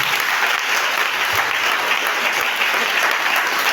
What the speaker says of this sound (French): Tu peux acclamer Jésus.